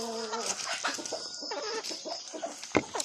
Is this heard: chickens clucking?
yes